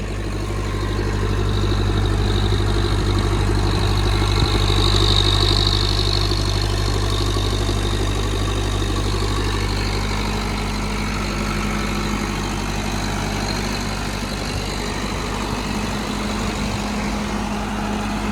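A diesel generator engine idles steadily up close, a loud low-pitched drone with a constant throb and no other sounds.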